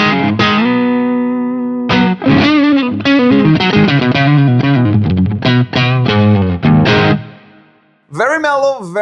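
Electric guitar, a Strat, through the BT Arkon 50 pedal on a low-gain driven preset, playing mellow sustained chords and single notes loudly and close, with a short pause before a final phrase.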